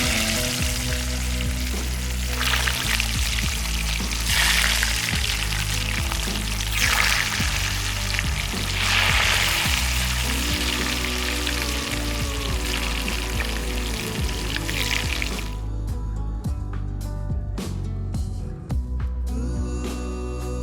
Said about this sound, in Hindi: कोफ्ते हमारे जितनी देर ऑयल के अंदर फ्राई हो रहे हैं